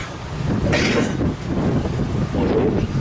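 Wind gusts outdoors at an open-mic poetry evening, a steady broadband roar buffeting the microphone throughout, with louder rushes near the start and end.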